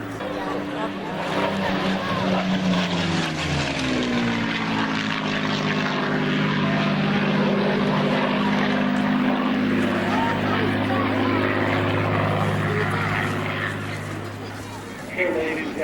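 A Spitfire flies a solo display after standing beside a Lancaster, its propeller engine droning loudly and steadily throughout, with the pitch sweeping as it passes, while a commentator speaks over it at an air show.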